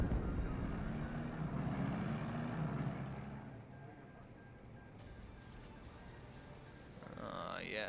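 Fighter squadron aircraft engines drone in the WWII strategy game Steel Division II, a loud broad roar that eases off midway, then swells again with a sharper sweeping pass near the end, no talk.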